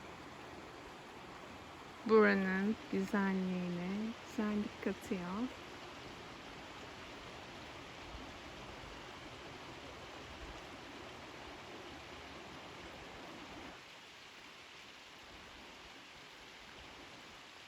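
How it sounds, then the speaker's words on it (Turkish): A creek flows steadily at Sinan Mill beside old granaries, its broadband rushing filling the whole stretch. A person speaks briefly near the start over the water, which then continues alone. "Biraz önce bahsetmiş olduğum dere burası. Akan suyun sesi"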